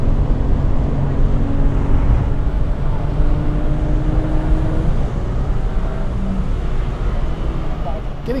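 Race car engine roaring at speed on track during an MSR session, a loud sustained drone with wind buffeting; a brief rise and shift in pitch late on, with a Porsche close behind.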